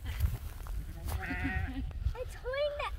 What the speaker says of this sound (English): did you get another goat? What is that?